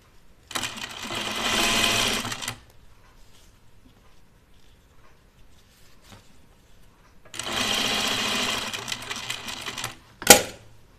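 A home sewing machine stitches a fabric cupcake or pie-slice pincushion in two steady whirring runs of about two and three seconds, separated by a quiet pause and followed by one sharp click.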